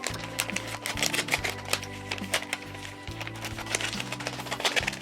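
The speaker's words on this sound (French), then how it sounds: "je vais déjà découper une partie de la pochette plastique" Scissors snip through a plastic sleeve in a crafting setup, making rapid repeated clicks and crisp cutting ticks up close, fairly quiet with a faint background hum.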